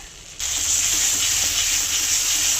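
Gobindobhog rice and nut paste with Kashmiri red chili powder frying in a pan for a radish dish, a loud bright sizzle bursting in after a brief quieter moment and holding steady.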